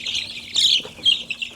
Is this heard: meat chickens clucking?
yes